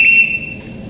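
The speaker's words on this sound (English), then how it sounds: "Everyone in this house answers to a whistle." A single shrill whistle blast, held briefly and fading out, blown to summon household staff during a school stage production.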